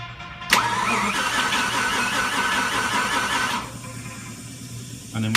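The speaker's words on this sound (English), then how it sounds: "And we can turn it over now and build oil pressure." A car engine is cranked over by the starter to build oil pressure, giving a loud, whirring churn for about three seconds. It stops, then a second brief crank begins at the end.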